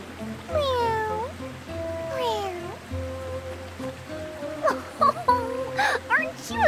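A newly hatched creature in Octopath Traveler II gives a few high, rising-and-falling meows, close and clear over soft game music, with a brief pause between cries.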